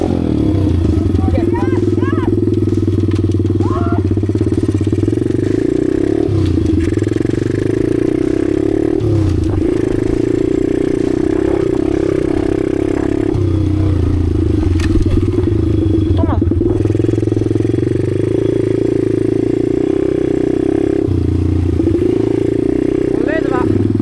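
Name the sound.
motorcycle engine revving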